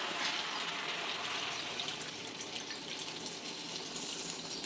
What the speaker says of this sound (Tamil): நம்ம இப்போ புளி தண்ணி ஊற்றிடலாம்